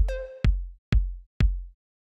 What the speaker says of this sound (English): the next thing I'm going to show you here are the kicks, which sound like this.